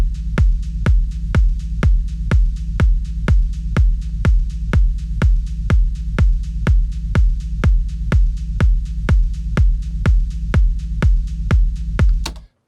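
A distorted techno rumble bass pulses and thumps low in a steady repeating rhythm, loud and gritty, with no voices over it.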